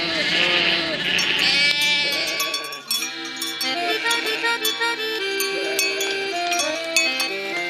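Sheep in the dry backlands of Pernambuco, Brazil, bleat in several overlapping, wavering calls, one loud and near at the start followed by further bleats that rise and fall.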